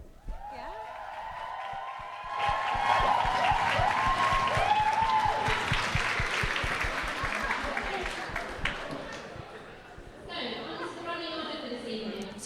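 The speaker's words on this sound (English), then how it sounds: "Give a round of applause to the candidates and their team" Crowd applauding election candidates and their team at a leadership results night, clapping rising to a sustained, fairly loud burst then fading, with voices talking over it before and after.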